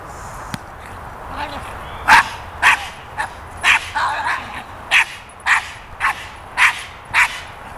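A dog in Schutzhund protection work barks in a steady series of about ten sharp, loud barks spaced roughly half a second apart, close by, with some handler talk and outdoor background.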